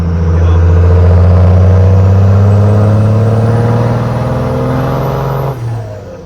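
A first-generation Cummins diesel truck with an exhaust stack accelerates hard in third gear, a loud, deep, sustained engine drone that holds steady and then eases off near the end, heard from inside the cab.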